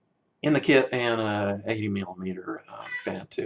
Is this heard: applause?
no